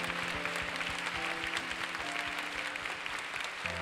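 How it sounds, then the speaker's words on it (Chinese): Congregation clapping together at a youth worship service in a Taipei church, dense steady applause from many hands filling the room. "我们一起拍手，把掌声归给神。"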